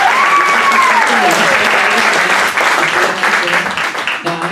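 Loud, dense applause from an audience at a gospel magic show, steady clapping filling the room for several seconds before thinning slightly near the end; a whistle-like tone glides briefly at the start.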